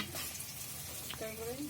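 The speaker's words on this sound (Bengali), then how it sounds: "এখন তেলে দিচ্ছি সবাই দেখেন" Rasa bara pitha batter dropped into hot oil and frying, a close, continuous sizzle and bubbling with a few faint stirring clinks, no one speaking.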